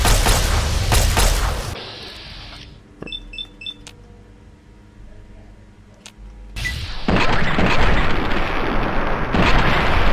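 Laser weapons firing in Fallout 3, with loud bursts and blasts at the start and end around a quieter stretch of short electronic beeps and zaps.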